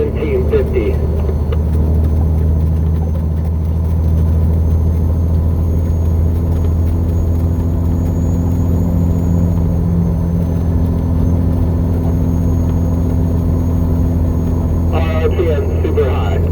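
A truck engine climbs northbound up Atigun Pass through a snowstorm at high RPM, a loud, steady low drone and rumble filling the whole stretch with little change.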